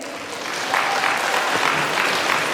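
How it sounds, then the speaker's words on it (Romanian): Audience at a village cultural centre show applauds to welcome dancers, a continuous crowd of clapping rising in the first second and sustained evenly. "Să primim cu aplauze!"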